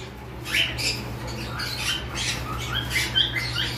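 Blue conure parrots in a breeding setup give sharp, scratchy squawks and chirps in short repeated bursts over a low background hum.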